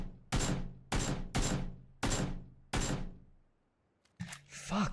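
Five loud, sharp gunshots in PUBG ring out one by one at roughly half-second to one-second gaps, each with a short ringing tail. A brief voice follows after a pause.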